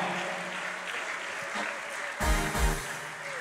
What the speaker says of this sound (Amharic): ለጌታ እስቲ ልልታ ጭብጨባ ክብርን እናመጣለታለን ይገባዋል